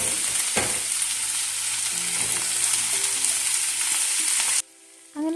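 Sliced onion and chopped capsicum sautéing in a hot pan give a loud, steady, close sizzle that runs unbroken for several seconds, then cuts off sharply, with no voices.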